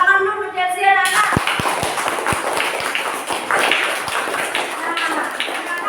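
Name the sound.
classroom children applauding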